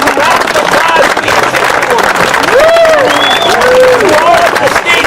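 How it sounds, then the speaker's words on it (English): Loud, sustained applause and cheering from an outdoor crowd at a groundbreaking ceremony, honouring a congressman, with voices calling and whooping over the steady clapping close by. "Another round of applause to the Congressman for his incredible service."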